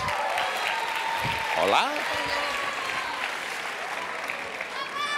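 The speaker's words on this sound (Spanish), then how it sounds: "recibimos con un fuerte aplauso a Vega y Alex." Studio audience applauding at a televised talent-show gala, a steady sustained wash of clapping filling the clip, with a host's voice briefly heard over it.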